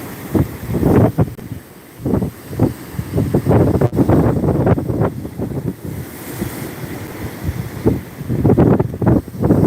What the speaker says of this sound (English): Sometimes the Gulf winds are roaring and it really comes through loud.